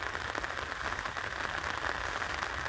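Steady rain pattering on a tarp overhead in woodland, a dense, even hiss of drops heard up close with no voices.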